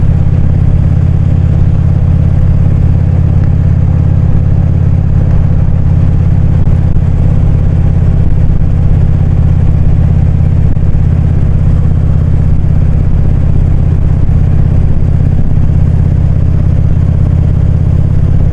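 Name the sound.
motorcycle riding on local roads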